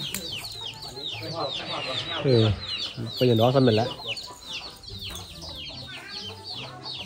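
Chickens clucking repeatedly near an elephant outdoors, busy overlapping clucks with louder squawking bursts in the middle, while someone talks over them.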